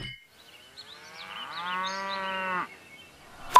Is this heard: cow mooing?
yes